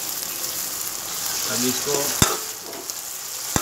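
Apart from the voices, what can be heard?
grated chili and garlic frying in pan, stirred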